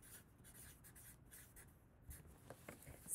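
Pencil scratching across paper while drawing a Zentangle pattern, a steady, faint, close rustle of small strokes with no voices.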